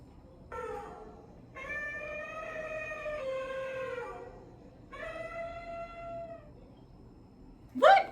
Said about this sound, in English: That's right, the